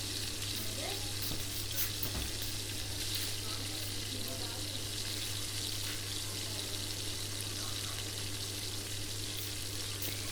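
Chana dal pakoras made with raw chickpeas deep-fry in hot oil, giving a steady, dense sizzling crackle that holds evenly throughout, close and moderately loud, under a constant low hum.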